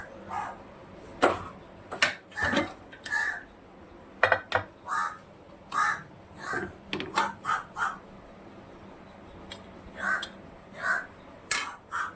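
A crow perched on top of a bathroom door caws loudly and repeatedly in uneven bursts, close by, with brief pauses between calls and no talk over it.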